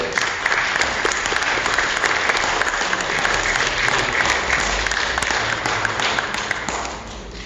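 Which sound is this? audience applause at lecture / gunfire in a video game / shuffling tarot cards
audience applause at lecture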